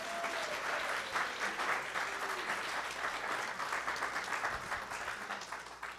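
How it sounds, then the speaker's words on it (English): Steady applause from a church congregation at Unity of Walnut Creek, many hands clapping evenly at moderate distance with no voices over it, tapering slightly at the end. "Let's give another round of applause."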